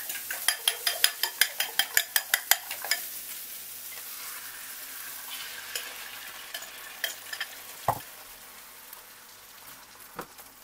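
Okra and egg omelette mixture goes into a pan with a rapid run of utensil taps, then a soft steady sizzle follows, broken by a few scattered clinks of a utensil against the pan.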